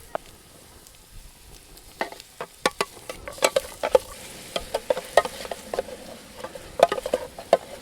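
Garlic, onion, carrot and anchovy sautéing in a small camping pan outdoors, a soft crackle with scattered sharp pops and light clicks of a utensil, fairly quiet and close.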